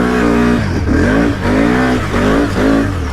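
A 4-wheel drive vehicle revving hard through a mud hole at a mud park, the loud close engine surging and dropping in repeated waves as the throttle is worked.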